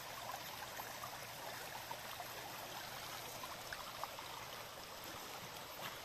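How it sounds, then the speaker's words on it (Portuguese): Strong current of the Miranda River after a storm, a faint, distant, continuous rushing and trickling wash with no voices. "Olha a força da água."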